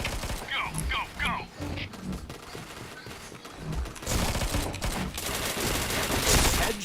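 Rapid gunfire bursts from the online shooter Point Blank, dense fusillades of shots crackling over game effects, with a player's voice talking alongside.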